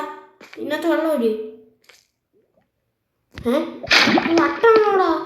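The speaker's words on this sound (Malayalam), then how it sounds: "ഇങ്ങോട്ട് വാടാ. ഇതിനകത്ത് വെള്ളം ഒഴി." Water is poured from a bucket and splashes in a burst midway, between stretches of loud children's and adults' voices talking close by.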